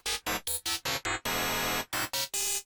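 A dark, glassy synth sequence built in Serum and Vital plays as a rhythmic run of short, bright stabs, then a long sustained chord, then more stabs, with no one speaking over it.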